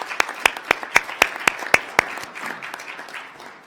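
A small meeting audience claps in a brief burst: a few distinct, sharp, evenly spaced claps stand out up front, then the clapping thins and fades into scattered patter.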